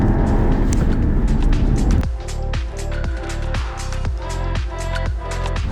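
A 2021 BMW 6 Series GT accelerating hard in sport mode with stability control off, its engine a loud, close, rising drone whose note climbs through several quick upshifts, each marked by a brief dip, with no voices over it.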